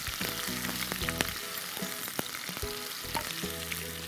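Chopped onion and six cloves fry for a duck meat curry, giving a dense continuous sizzle close by, with repeated clinks and scrapes of a spoon stirring against the pan throughout, with no talking.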